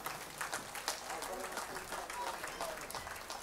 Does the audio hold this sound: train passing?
no